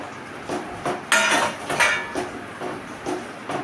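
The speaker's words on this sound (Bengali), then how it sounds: "ভালো করে নাড়তে হবে সমানে" Tomato sauce being stirred in a cooking pot after salt, pepper and Kashmiri chilli powder go in: a utensil scrapes and knocks against the pot in uneven strokes, close and moderately loud, with no voices.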